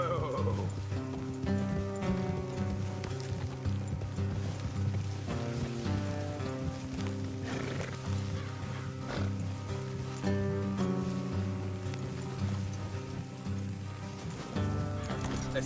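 Horses are ridden in the video game Red Dead Redemption, hooves clip-clopping steadily beneath a tonal music score, with a character speaking over the ride.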